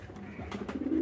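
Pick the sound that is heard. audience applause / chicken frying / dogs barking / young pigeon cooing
young pigeon cooing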